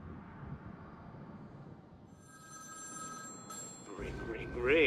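A telephone rings in the video game Batman: Arkham City, steady repeating tones over a rumbling train-like background, louder near the end.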